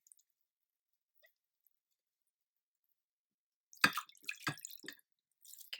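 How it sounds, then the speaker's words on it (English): Water is squeezed by hand out of bread soaked like a sponge, giving a short burst of wet drips and squelchy splatters after a long quiet stretch, then a few more faint drips. "I need to take the excess water out of it"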